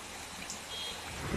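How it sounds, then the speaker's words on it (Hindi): Rain pours steadily onto a road construction site where bituminous paving work was underway, a dense even hiss with no gaps and no voices. "देख रहे हैं आपका बारिश का मौसम कैसे पानी गिर रहे हैं।"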